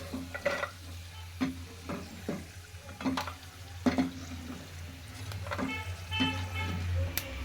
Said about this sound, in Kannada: ಉಳ್ಳಾಗಡ್ಡಿ ಹಣ್ಣೆಲ್ಲ ಮತ್ತೆ ಫ್ರೈ ಮಾಡ್ಕೋಬೇಕ್ರಿ